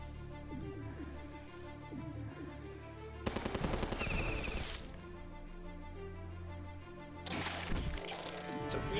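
Rapid turret gunfire from the strategy game Battle Nations, sounding as dense crackling bursts over a busy game soundscape, with a louder volley in the middle and another toward the end.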